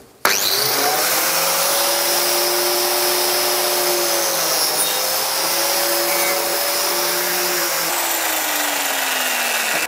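A biscuit joiner cuts slots in a wooden board with a loud, steady high-pitched motor whine. The whine holds nearly constant for about ten seconds and dips slightly in pitch as the blade bites into the wood.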